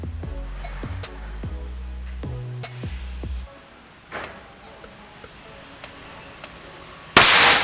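Shots from a PCP Black Panther air rifle: several sharp, close pops in a quick uneven series, followed after a pause by one louder, harsher crack.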